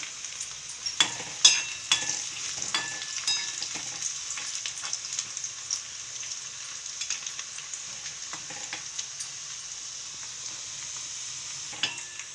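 Garlic and onion frying in oil for a tomato and prawn chutney, a continuous crackling sizzle with scattered sharp pops, loudest early and easing off later, close by with no talking.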